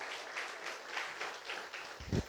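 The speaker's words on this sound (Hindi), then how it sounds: "देखो ना, इतना कंजूस वाला ताली है" Sparse, half-hearted applause from a church congregation at a Sunday service, faint scattered claps with a louder thump near the end.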